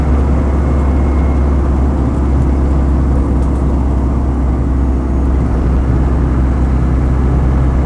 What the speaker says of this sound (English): So into top gear now, and it just really